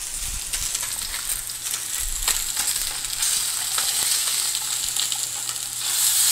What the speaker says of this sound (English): Let's check the sear on our salmon.